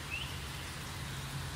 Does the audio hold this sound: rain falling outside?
yes